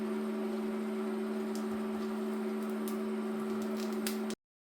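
An air fryer heating a silicone tray of hot fat for chipolata sausages hums steadily with a constant fan drone and faint ticks, close and even, then cuts off abruptly.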